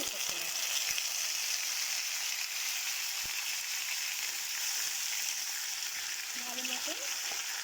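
Onion paste frying in a pan for dum aloo, a dense steady sizzle filling the scene, with a few light clinks of a utensil.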